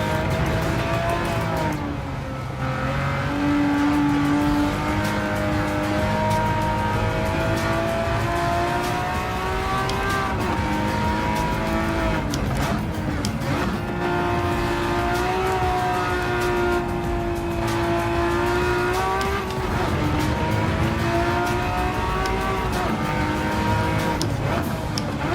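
A Ferrari Testarossa engine races in the video game Gran Turismo 7, revving loud and continuous, rising and falling through gear changes as the car laps the track.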